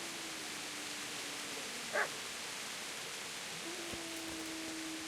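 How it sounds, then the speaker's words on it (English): A dog gives a single short, fairly distant bark in Kingdom Come: Deliverance, set against a steady hiss of rain-like ambient noise. "Where you at, dog?"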